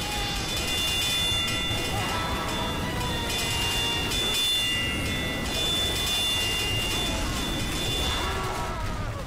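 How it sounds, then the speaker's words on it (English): A train in Team Fortress 2 rushes past close by as a continuous loud rumbling roar with a sustained high whine, staying heavy and unbroken for several seconds. "Oh, the sound of a train."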